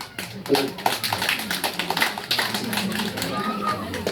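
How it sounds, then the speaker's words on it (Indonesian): Steady applause from a crowd at a village candidates' vision and mission presentation, a dense patter of many hands clapping continuously, fairly close and moderate in volume. "Kita tepuk tangan kembali."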